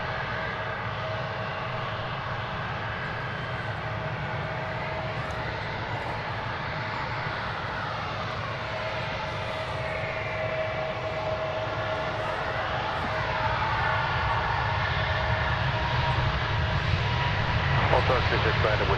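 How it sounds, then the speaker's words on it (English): An American Airlines Airbus A321neo takes off at DFW with a sustained jet roar, its sweeping engine tones rising and falling and the noise growing louder toward the end, while a commentator talks over it. "Flight 2720, an Airbus A321neo. This one's going to Tucson, Arizona."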